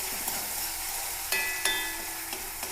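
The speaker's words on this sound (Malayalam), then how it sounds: "ഉള്ളിയും വെളുത്തുള്ളിയും ചതച്ചതും 2 പച്ചമുളകും കൂടി ഇട്ട് കൊടുക്കുക." Crushed onion, garlic and two green chillies sizzle steadily in a hot pan, a close, even hiss punctuated by a few sharp clicks of a utensil, with no one speaking.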